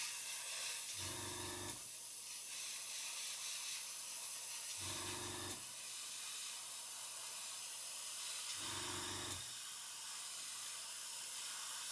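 An airbrush sprays paint onto panels of a 1/35 scale ICM CH-54A Tarhe helicopter model, a steady close hiss broken by three short pulsing bursts spaced a few seconds apart, with no talking.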